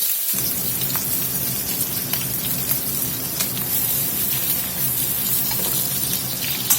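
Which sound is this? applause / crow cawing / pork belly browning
pork belly browning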